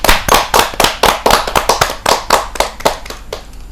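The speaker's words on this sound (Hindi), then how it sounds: "जोरदार ताली के साथ हम उनका स्वागत।" Audience clapping to welcome a poet at a Hindi kavi sammelan, sharp, close claps in a loose rhythmic run, loud and distinct with no talking over them.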